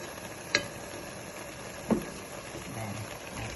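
Coconut oil heats in a pan for a Ghanaian nkontomire spinach stew, giving a steady soft sizzle broken by two sharp clinks of utensil on the pan.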